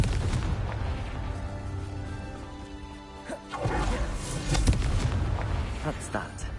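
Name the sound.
Confringo spell explosion in a video game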